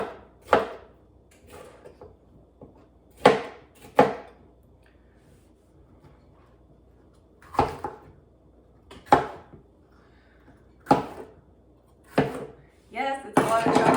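Vegetables getting a rough chop with a knife on a cutting board for gluten-free meal prep, about ten loud separate thuds spaced irregularly, the last few quicker and closer together.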